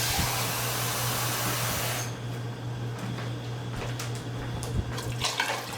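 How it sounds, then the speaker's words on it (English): Water pours into a pot of Puerto Rican-style white bean and pumpkin stew, a loud rushing gush for about two seconds that gives way to softer bubbling and light clatter. "And I'm going to add my water."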